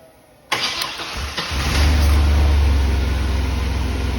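A GM pickup truck with a no-start fault cranks briefly with no outside assistance, then catches and settles into a loud, steady idle close by, with no talking.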